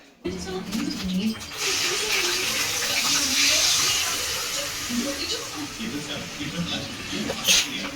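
Water poured from a glass onto palm-fruit roti batter cooking over a flame, giving a steady hissing wash that rises in the middle and then eases, while someone talks throughout.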